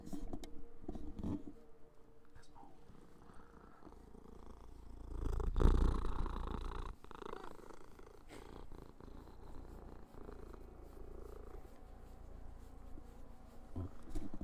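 A cat purrs steadily in a low, continuous rumble at close range, swelling briefly louder midway, with some faint background noise.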